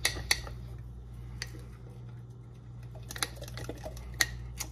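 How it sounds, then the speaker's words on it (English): Sourdough starter and flour being stirred in a dish: sparse light clinks and scrapes of the utensil against the dish, close up over a low steady hum. "I'm just gonna give it a good stir."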